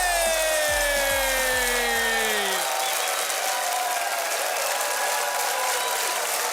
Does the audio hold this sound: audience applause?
yes